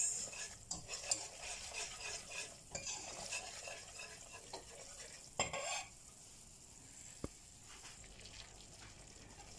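A spoon or whisk stirs Danish brown sauce as it browns in a pan, with quiet scraping and soft sizzling, a couple of louder clinks against the pan, then the sound fades to a faint simmer.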